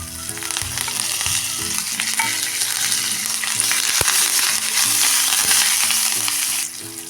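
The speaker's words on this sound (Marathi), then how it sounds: "मिरची थोडा वेळ परतून घ्या। त्यात आता टाकूया हा कढीपत्ता" Green chilies and curry leaves frying in hot oil for a radish stir-fry, a loud dense crackling sizzle with stirring strokes and a single sharp tap, close and unbroken until it suddenly drops at the end.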